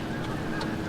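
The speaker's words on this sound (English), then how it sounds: "There's geese forming up, flying around," Geese flying in circles over a roadside spot near a lake give a few faint, distant honks over a steady low outdoor rumble.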